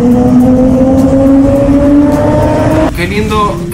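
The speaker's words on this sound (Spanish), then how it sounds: "Qué lindo que suenan las motos en los túneles" A motorcycle engine revving inside a road tunnel. A loud, close, reverberant engine note climbs steadily in pitch, then breaks abruptly into a different, rougher tone near the end.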